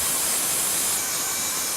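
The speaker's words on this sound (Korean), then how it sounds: "부지런히 톱질하는 이 남자 집중하는 모습이 남다릅니다." A hand saw cuts steadily through wood in a hanok carpentry workshop, a close, continuous rasping stroke that shifts slightly midway.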